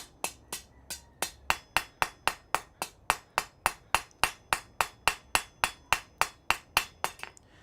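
Hot metal stem struck with a hammer in a smithy while it is rolled, a steady run of about two dozen sharp, ringing blows, close and loud, evenly spaced at roughly three per second.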